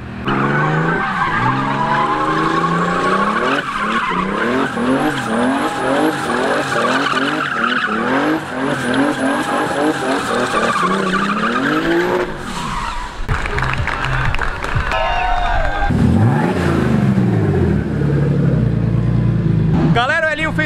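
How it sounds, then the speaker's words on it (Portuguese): Cars at a race track event revving hard and skidding, loud engine notes climbing and falling with squealing tires, followed by a deep rumbling burst near the end. "O pessoal se empolga, começa a acelerar, mas é bem legal, o ronco dos carros, mano, é muito top"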